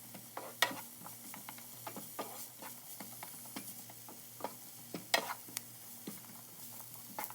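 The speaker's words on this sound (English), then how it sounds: "add your minced garlic and give it a toss for just about 30 seconds" Minced garlic sizzles in a hot pan while being tossed and stirred, a soft steady frying hiss punctuated by sharp scraping and clinking taps of a utensil, close and fairly quiet.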